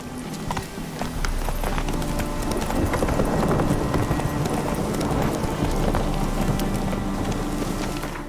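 Horse hooves clip-clop steadily along a road in The Witcher 3, a continuous rhythmic trot heard close, with light wind noise underneath and no talking.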